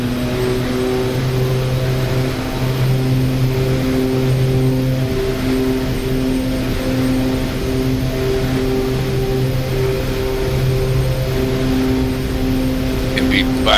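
OV-10 Bronco twin turboprop engines at full power in the DCS World flight simulator: a steady, loud propeller drone with a constant tonal hum that holds for the whole stretch, with a voice briefly heard over it.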